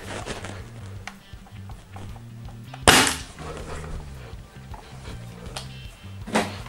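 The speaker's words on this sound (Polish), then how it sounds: "Skoro magazynek ma 30 kulek, repla ma 3 lufy, więc oddajemy 10 strzałów na szelcie." A CYMA CM.350 airsoft replica, a three-barrel shotgun-style gun, fires several sharp cracking shots at irregular intervals, one louder snap standing out among quieter pops and mechanical clicks, close by with no talk.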